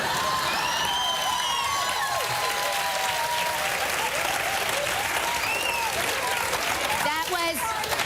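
A studio audience of a live daytime talk show applauds and cheers steadily throughout, a loud continuous crowd roar with voices speaking over it.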